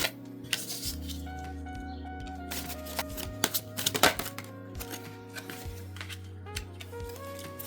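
Tarot cards being shuffled and handled, with soft riffling and sharp clicks and taps at irregular moments, close up over a faint background hum, with no talk.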